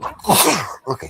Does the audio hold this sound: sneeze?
yes